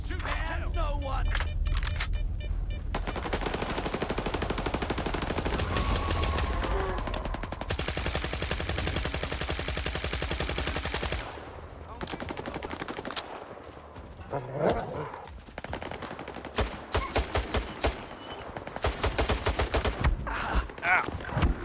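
Rapid bursts of automatic gunfire from the video game STALKER 2 fill the stretch. The loud fusillades run nearly continuously, then break into shorter, choppier volleys with gaps between them.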